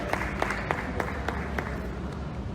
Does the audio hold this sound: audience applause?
yes